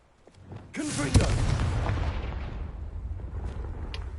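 A Confringo spell in Hogwarts Legacy sets off a deep explosive boom that hits hard after a short rising whoosh, then rumbles on as a long, fading roar.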